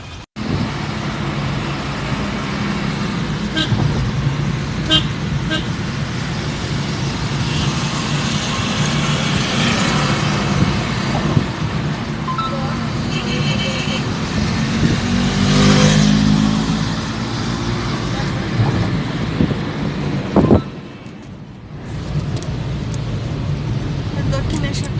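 A car drives through busy road traffic, a steady engine drone and road rumble with occasional revving, continuous for most of the stretch and dipping briefly near the end, with people talking over it.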